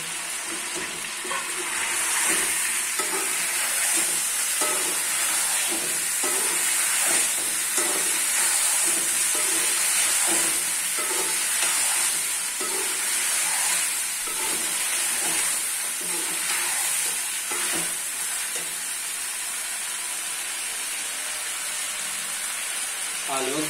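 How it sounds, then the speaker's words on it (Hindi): Potatoes frying with chicken in a pan for a Pakistani green chickpea salan, a steady dense sizzle with stirring scrapes throughout, under occasional speech. "आलू को थोड़ी देर भून लेते हैं।"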